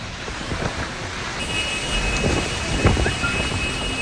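A hailstorm with heavy rain and thunder in Uttar Pradesh: a dense, steady wash of rain noise throughout, with a low rumble swelling briefly near the end.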